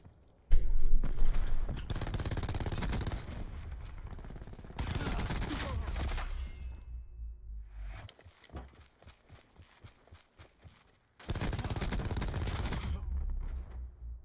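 A Spitfire gun in a shooter video game fires in several long, loud bursts separated by quieter gaps, with lighter clicking and stepping-like sounds between bursts.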